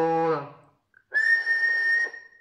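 Whistle into the microphone of a modified Alan 8001 S CB radio: after a brief voice fades out, a single steady, loud tone holds for about a second before cutting off.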